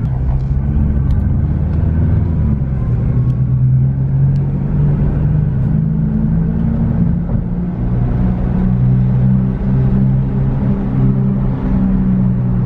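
A Nissan R35 GT-R rolls along on loud R888 tires, giving a steady, close low road rumble and tire roar throughout with no clear breaks, heard from inside the car.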